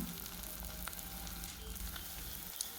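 Chopped onions fry in a pan for chickpea biryani, giving a steady, close sizzle with soft crackles and occasional pops, no talking.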